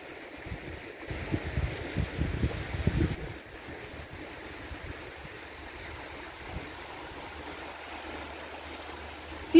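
Incoming tide on the Jade Bight of the North Sea makes a steady wash of water, with gusty wind buffeting the microphone at first before it settles into a softer, continuous surge.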